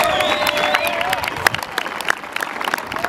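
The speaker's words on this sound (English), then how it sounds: "Fans, let's hear one more round of applause for these three great Norse seniors." Fans at a men's college soccer senior day applaud for three seniors, clapping and cheering across the stands with sharp individual claps standing out. A few shouts and calls ring over the clapping in the first second.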